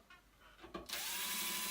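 Small screws driven into the back rocker switch of an ozone generator unit with a power drill, a few faint rubbing taps and then a steady loud whirring drive that runs on to the end.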